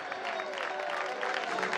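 Brief, steady round of audience clapping at a school and community event, moderately loud and continuous without talk.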